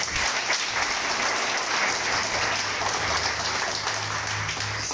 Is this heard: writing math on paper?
no